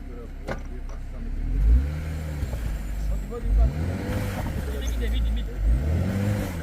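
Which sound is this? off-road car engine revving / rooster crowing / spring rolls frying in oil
off-road car engine revving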